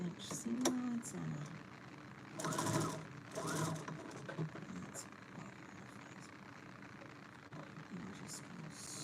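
A sewing machine runs a straight seam on a duvet cover in short bursts of rapid stitching, quiet and close, alongside a person talking.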